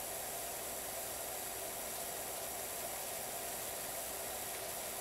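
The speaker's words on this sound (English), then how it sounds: "I'm just spraying off the inside like a crazed person" Steady broadband hiss of a pressure washer spraying water in the PowerWash Simulator video game, a continuous, even rush with no breaks and no voices.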